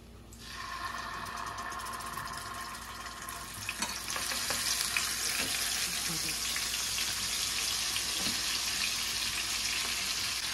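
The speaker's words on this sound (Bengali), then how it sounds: "শুকনো লঙ্কা আর কাঁচা লঙ্কা বাটা, ঠিক আছে, তা দিয়ে দাও।" Dry and green chili paste with nigella seeds frying in hot oil for a Bengali pabda fish tel jhal, a steady close broadband sizzle that swells louder after a few seconds and continues with faint stirring clinks, with no talk.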